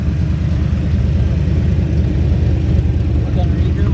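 A 1978 Jeep CJ7 with a factory V8 and loud side-mounted header mufflers idles with a heavy, steady low rumble, close and constant throughout, with a voice speaking over it.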